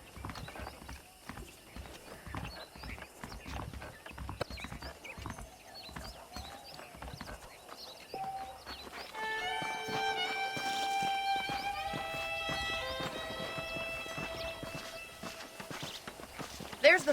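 Horse hooves clip-clop at a steady walking pace while riding in the Western game Red Dead Redemption, moderately close, with talking over much of it and a musical score rising partway through.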